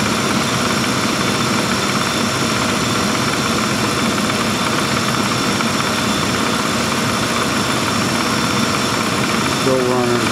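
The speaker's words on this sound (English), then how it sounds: "Compressor kicked on." A 1995 Town Car engine idles with its air-conditioning compressor engaged, giving a steady, loud, close mechanical drone that stays continuous throughout.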